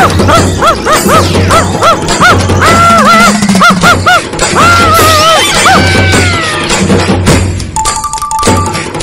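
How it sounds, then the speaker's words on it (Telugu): A dog barks and yips repeatedly at a cat in a scuffle, loud and close, with thumps, a crash and whimpering mixed in over background music. "అందుకేనా కుక్క పిల్లిని అరుస్తుంది?"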